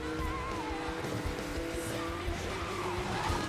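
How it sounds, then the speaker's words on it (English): Car drifting in NFS Most Wanted, with a steady engine drone and thin, wavering tire squeals running through the whole short stretch, moderately loud. "Drift, nice."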